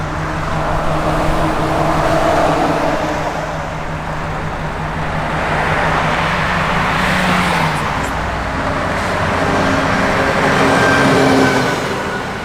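A 1965 Chevrolet Impala SS cruises down the road, giving a steady, loud rumble of engine and road noise that swells and eases slightly over about twelve seconds, with no talking.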